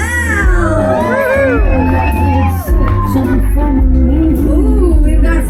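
Audience at a pin-up contest cheering, whooping and yelling loudly and continuously, with an announcer's voice mixed into the crowd noise.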